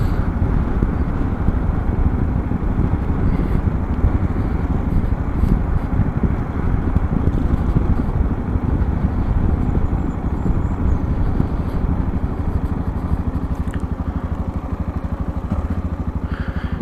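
A motorcycle coasting downhill with the clutch pulled in through a town centre, a steady loud low engine rumble mixed with heavy wind buffeting on the microphone throughout.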